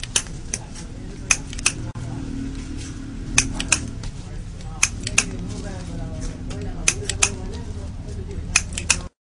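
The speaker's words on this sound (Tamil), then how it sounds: "வேகமாக அவர்கள் கத்தரிக்கோலினால் வெட்டுகின்ற போது சீரான இடைவெளியில் அழகான ஒலி எழும்புகிறது" Scissors snipping the thread on hand-rolled cigars at a workbench, sharp metallic clicks coming in quick uneven clusters over a steady background murmur and hum.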